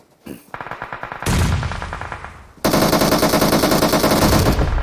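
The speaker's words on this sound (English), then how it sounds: "And wow, that nade by Telly along with the shots from Juicy." Gunfire from a PUBG match in a professional esports league, with rapid automatic bursts followed by sustained, loud, dense firing that fills the whole stretch, close and without talk.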